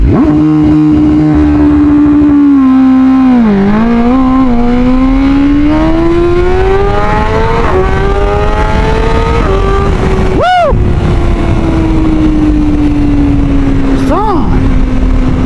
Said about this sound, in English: Pin it. It's going to hold it at 8 grand. Let out the clutch.